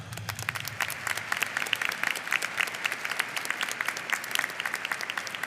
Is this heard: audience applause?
yes